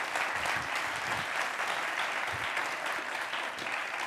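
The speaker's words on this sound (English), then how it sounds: "can I have a round of applause for everybody that spoke?" An audience at a Sunday spiritual service in Westlake Village gives a steady round of applause for the people who spoke, with dense, even clapping from many hands throughout and no talk over it.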